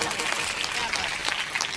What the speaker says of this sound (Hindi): एक बार इसके लिए जोरदार तालियां बजा दीजिए।